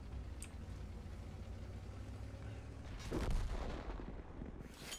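Artillery fire in a tank video game: a distant heavy boom rolls in after a few seconds over a low, steady engine rumble, with no talk.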